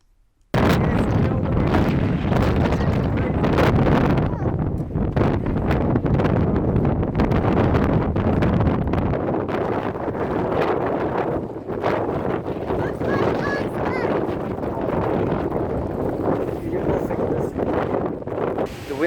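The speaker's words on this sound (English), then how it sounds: "The wind is absolutely crazy here, and everything is frozen." Strong wind buffets the microphone in a loud, continuous roar outdoors on a cold, frozen day near a stone-house mountain village. The rumble covers almost the whole stretch with little letup.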